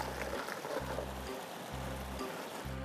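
Creek water flows steadily in a soft, continuous wash with a low periodic throb underneath, fairly quiet and without talk.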